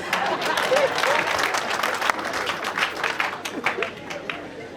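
An audience claps during a traditional Rwandan itorero recitation, a dense burst of applause that gradually thins and fades with scattered claps toward the end.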